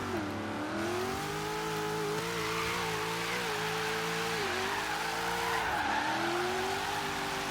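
Ford Falcon in Forza Horizon 3 doing a third-gear burnout, its engine holding a steady high drone with wavering pitch as the tires spin and squeal continuously, loud and close throughout.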